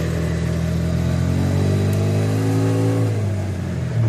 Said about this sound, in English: now when I'm driving around the camp roads